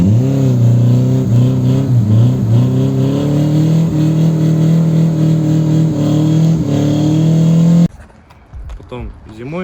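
A drift car's engine is held high and pushed into the rev limiter, a loud, steady near-constant drone with small fluctuations that cuts out abruptly near the end, leaving quieter background.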